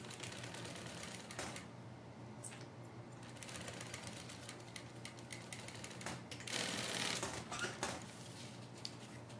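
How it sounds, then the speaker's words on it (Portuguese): A sewing machine stitches a seam on a colourful bag, quiet rapid mechanical whirring that runs in short bursts with brief pauses, stopping and restarting, with no talk over it. "Aqui agora eu vou costurar aqui, uma margem de costura de um pé de máquina."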